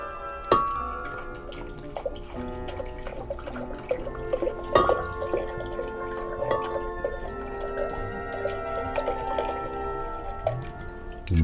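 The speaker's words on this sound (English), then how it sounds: "first we'll add a cup of spring water" A cup of spring water is poured for a salad dressing, a steady close trickle and splash that runs throughout with small dripping accents and no talk.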